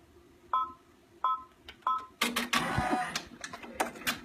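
An embroidery machine stitching a freezer pop cover starts with a few short electronic beeps, then breaks into fast mechanical whirring and clicking, close and moderately loud.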